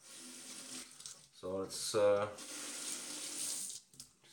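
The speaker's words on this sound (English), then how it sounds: "just get a little bit of water on it." Tap water runs in a sink during a wet shave, a steady hiss that continues under and between a man's speech, fairly close.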